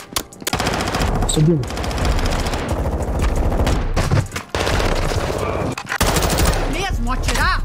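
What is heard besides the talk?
gunfire in the video game Call of Duty Warzone 2.0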